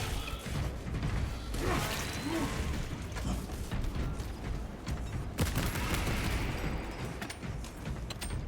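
Video game gunfire comes in a dense, continuous wash of shots and mechanical clatter, with a few sharper bursts standing out against steady background action noise.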